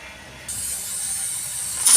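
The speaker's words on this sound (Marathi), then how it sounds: "बघा आपल्या कुकरची शिट्टी झाली" Pressure cooker whistle cooking a mixed curry of bombil fish and brinjal, a sharp hiss of steam starting abruptly and holding steady, louder at the very end.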